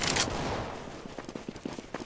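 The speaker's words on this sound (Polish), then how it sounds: "O, tym razem weszła główka, jednym strzałem." Counter-Strike: Global Offensive gunfire lands a one-shot headshot: a sharp burst of shots up front, then a string of fainter, spaced pops and clicks, all fairly quiet, with no talk.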